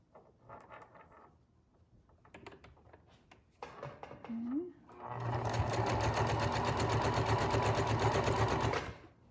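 Domestic sewing machine stitching elastic onto a homemade fabric face mask: after a few soft handling clicks and rustles, the motor starts and runs in a loud, rapid, steady needle chatter for several seconds.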